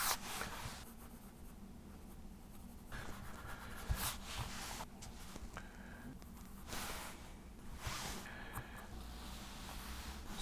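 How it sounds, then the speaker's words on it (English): Pencil scratching and rubbing on paper while drawing and erasing a paper snowflake design, a steady close scratchy texture with bursts of brisk eraser strokes and brief pauses. "I tend to be pretty heavy-handed with the pencil, so I have to do a lot of erasing as I go."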